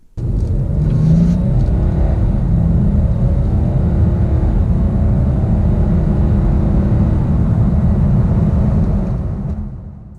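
A 2017 BMW X6 30d diesel pulls hard from 30 to 70 mph, its engine a deep steady drone with a low rumble building through one long sustained surge before easing off at the end, heard from inside with no talk.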